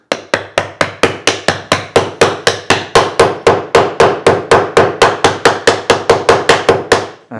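Sapele dovetail joints are tapped home with a hammer, about thirty sharp, evenly spaced knocks in a steady rhythm, close and loud, with no talking.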